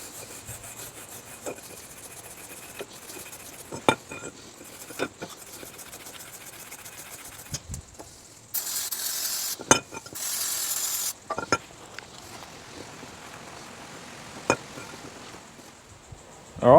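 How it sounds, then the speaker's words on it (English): Wire brush scrubbing the pad areas of a Commodore brake caliper, with scattered rubbing strokes and clicks and then two longer, louder bursts of steady scrubbing close by. "Now with just a wire brush, just give those areas a quick clean"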